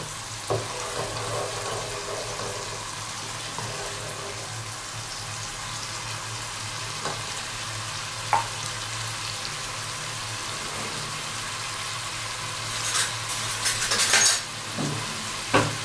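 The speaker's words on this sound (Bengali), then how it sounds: "রান্নাটা মশলাটা একটু ভাজব, ভেজে চিকেনটা এর মধ্যে দিয়ে কষিয়ে" Spices and chicken sizzle in a wok for Bengali kadai chicken, a steady hiss of frying throughout, broken by a few sharp clinks and stirring scrapes toward the end.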